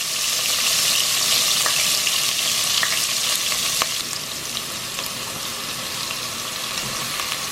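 Garlic, ginger and green onion sizzle loudly in hot oil in a pan for egg roll filling, a steady close frying hiss with faint stirring scrapes.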